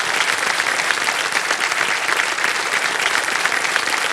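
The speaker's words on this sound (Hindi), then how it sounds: "एक बार जोरदार तालियां बज जाए इनके लिए।" A studio audience on the KBC quiz show bursts into loud, sustained applause, dense and even clapping filling the whole stretch without any talk.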